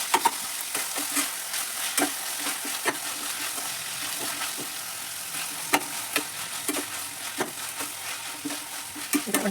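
Onions fry in a pan for a South Indian vegetable kurma over lowered flame, a soft continuous sizzle broken by regular scraping stirs, close and fairly quiet.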